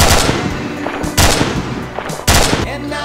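Rapid M14 rifle fire in a military video game, with loud, close bursts of shots and the bolt cycling between them, sharp cracks repeating at uneven intervals.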